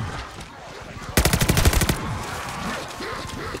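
A rapid burst of machine gun fire, about ten shots in under a second, rattles loudly in a Call of Duty Vanguard zombies match on the Shi No Numa map, amid ongoing game noise and background voices.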